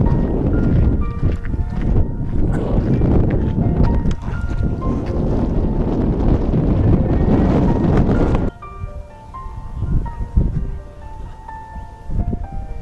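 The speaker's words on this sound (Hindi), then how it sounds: "इतनी बढ़िया हवा चल रही है।" Wind blows outdoors over stony ground on a tour in Israel, a loud, gusty roar buffeting the microphone for about eight seconds before easing into calmer, intermittent gusts.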